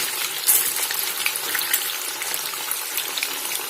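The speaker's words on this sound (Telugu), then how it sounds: "ఇలా మనం నెమ్మదిగా వేయించుకోవాలండి. ఎర్రగా రావాలి ముక్కలు." Fish pieces frying slowly in oil make a steady, close hiss and crackle with brief bursts of louder spitting, and no voices are heard.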